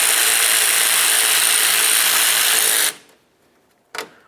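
A 10mm ratchet works a bolt on a 2007-2012 Nissan Sentra's radiator support, giving a loud dense run of close ratcheting clicks for about three seconds, then near silence and one short clack.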